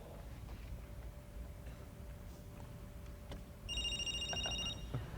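A phone rings with an incoming call placed from a computer over Bluetooth, at a 2002 Macworld New York demo. A single bright, fairly faint electronic ring burst comes in over a steady hall background hum.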